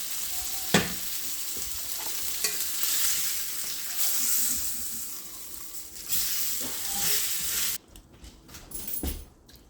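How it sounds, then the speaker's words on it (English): Cooked quinoa warming in a hot pan, a steady close sizzle with occasional stirring knocks, fading abruptly near the end. "I just threw the quinoa in for like 30 seconds to warm it up again"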